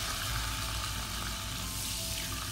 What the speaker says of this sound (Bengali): এই যে পেঁয়াজটা এভাবে আলতো করে বারবার নাড়াচাড়া করে দিতে হবে, তাহলে সমানভাবে প্রত্যেকটা পেঁয়াজ বাদামি করে ভাজা হবে।